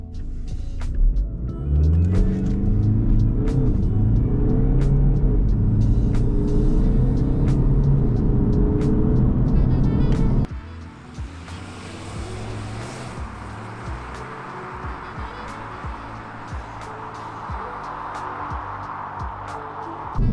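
A 2019 BMW 520d Touring's 2.0 inline-four engine roars loudly as it accelerates hard from 0 to 100 in a tunnel with echoing reverberation, then the roar cuts off abruptly into a lower, hollow rumble that trails on.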